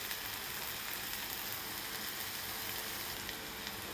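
Chopped onion and tomato sizzle steadily in a pan while paneer bhurji is cooked at home, giving an even crackling hiss throughout with no pauses.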